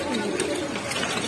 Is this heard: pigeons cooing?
yes